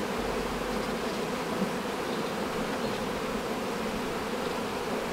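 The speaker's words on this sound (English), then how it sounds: "we're only left with young nurse bees in this one" Dense, steady buzzing of many honey bees around an aggressive hive being re-queened, close and continuous, with no talking.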